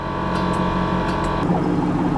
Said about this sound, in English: now we got the car started up. Compressor is going.